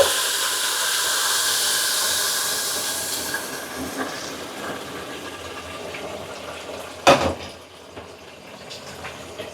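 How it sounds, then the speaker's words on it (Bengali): Boiled water is poured into a hot pot of pulao, setting off a loud, hissing rush of steam that slowly fades, then a sharp clank of a utensil near the end. "আমি এখন ফুটিয়ে রাখা জলটা দিয়ে দেব।"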